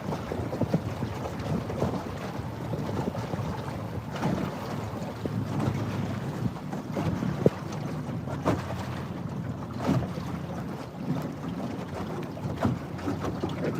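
A team paddling a boat through water, with continuous splashing and water rush blended with wind buffeting the microphone, steady and fairly close.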